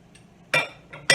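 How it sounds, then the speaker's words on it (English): Cheese sauce for mac and cheese stirred in a pot: two short, bright clinks of a utensil against the pot, close and fairly loud, with a quieter scrape between them and no talking. "So I'm wanting to stir this kind of continuously."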